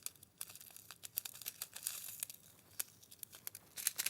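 A small plastic bag of diamond painting beads is snipped open up close, giving quick crinkling and tearing rustles of thin plastic with sharp little clicks, no voices.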